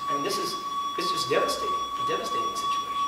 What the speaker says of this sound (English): And with that, there's probably a fire alarm.